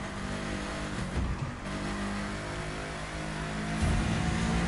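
A car drives on a highway in the video game The Crew 2, its engine droning steadily and close with a slight rise in revs toward the end, and no voices.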